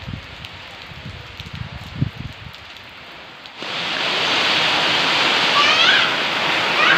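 Steady, dense hiss of a heavy hailstorm with thunder in Amboli, Konkan, that swells suddenly partway through into a loud, continuous roar, with some low rumbling and movement early on.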